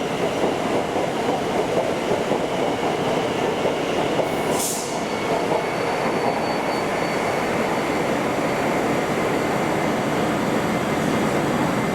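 An Avanti West Coast train at London Euston station gives a steady, close rumble of rolling stock with faint rail clatter, plus a brief high hiss a little before the midpoint.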